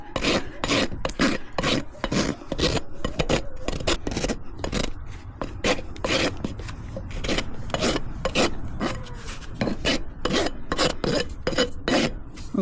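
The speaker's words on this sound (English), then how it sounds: "This is the Barefoot rasp." A Barefoot rasp files a miniature horse's hoof in fast, regular rough strokes, close and loud, a gritty scraping rhythm that keeps going without pause.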